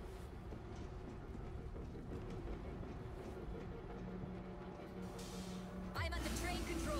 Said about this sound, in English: Get the train going.